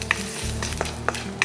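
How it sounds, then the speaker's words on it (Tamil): Mustard seeds, asafoetida, cumin and curry leaves sizzle and crackle in hot oil, a steady close hiss with a few scattered pops. "அந்த கடுகு நமக்கு பொரிஞ்சு வரப்போ ஒரு 2 பிஞ்ச் அளவுக்கு பெருங்காயப்பொடி, கொஞ்சம் ஜீரகம், கொஞ்சம் கறி லீஃப்"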